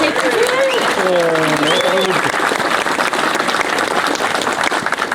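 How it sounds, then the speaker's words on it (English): Applause at a drivers meeting at Thunderhill Raceway, a full room clapping steadily and loudly throughout, with a voice briefly heard over the start. "let's give a hand of applause for Eric"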